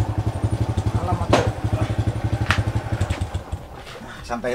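A motorcycle engine idles nearby with a steady, pulsing low throb that runs the whole time, while people talk over it.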